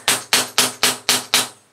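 A small hammer taps a fitting into an old, worn-out shower hose six times in an even, rapid rhythm, each hit sharp, close and loud, with no voices.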